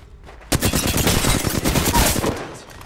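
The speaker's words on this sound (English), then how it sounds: "Getting shot at!" Rapid automatic gunfire in the video game Apex Legends, a loud close burst of fast repeated shots lasting about two seconds, then trailing off.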